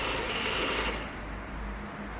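A sewing machine stitching a button-up shirt, a steady fast whir of needle strokes close up, easing slightly in pitch partway through, with no talking.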